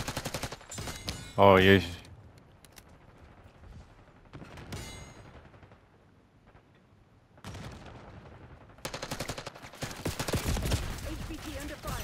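Gunfire in a video game firefight, with scattered sharp shots and bursts including a loud cluster near the start and heavier firing toward the end, among quieter stretches and brief speech.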